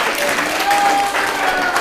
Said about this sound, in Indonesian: Tepuk tangan dong buat nyebut Mudabir.